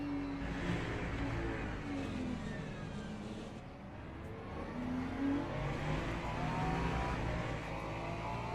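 A race car engine in a racing video game at the Algarve circuit drones and revs continuously, with rising and falling whines as the car shifts and accelerates, loud and steady throughout.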